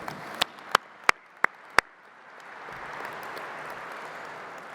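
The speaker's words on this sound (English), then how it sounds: "let's give another round warm of applause for Governor Healey" A convention audience applauds for a governor, beginning with a few loud, separate claps and then swelling into a softer, sustained wash of applause from a large crowd.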